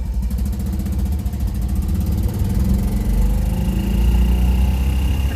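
A BMW Isetta microcar's small engine drones steadily while driving, a close, buzzy, uneven putter that swells slightly louder toward the end, with no talk over it.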